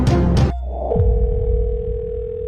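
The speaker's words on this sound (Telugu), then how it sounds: "ఫోన్ ఎత్తండి సార్ ప్లీజ్." A telephone gives a steady, continuous tone during an outgoing call, loud and unbroken for about two seconds after a brief burst of noise at the start.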